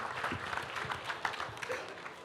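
A seated audience at a mushaira of women poets claps warmly to welcome a poet to the stage, steady dense applause throughout.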